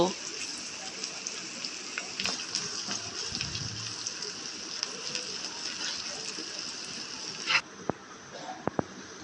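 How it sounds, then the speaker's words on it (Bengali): Onions fry in mustard oil for a beef tehari, giving a steady, close, even sizzle like light rain that continues throughout and drops slightly near the end. "এবার পেঁয়াজটাকে একটু ভেজে নেব।"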